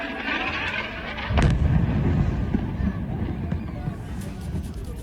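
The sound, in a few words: loud explosion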